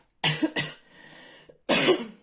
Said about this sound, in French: Excusez-moi pour cette toux toujours présente